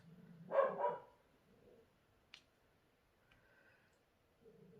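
A dog gives a quick double bark, fairly faint, in an otherwise quiet spot. A sharp tick and a few soft, low noises follow.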